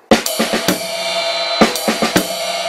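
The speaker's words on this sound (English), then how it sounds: "And then you're going to end with a ride and a bass hit together." A drum pattern with crisp cymbal strikes and low kick thumps, ending on a ride cymbal and bass drum hit together that rings out.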